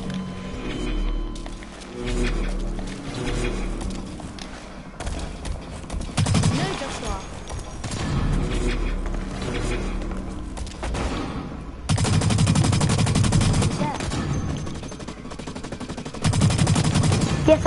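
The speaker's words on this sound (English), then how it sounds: "I'm using my assault rifle" Assault rifle fire in the shooter game Blacklight, rattling in several loud sustained bursts between quieter stretches, with players chatting over the action.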